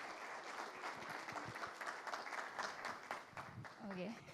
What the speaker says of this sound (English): let's welcome her with a huge round of applause